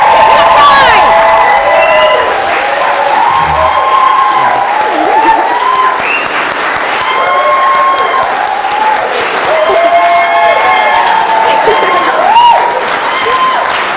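Wedding guests at a ceremony applaud and cheer the newly declared husband and wife, with loud, continuous clapping, whoops and excited crowd voices sustained throughout.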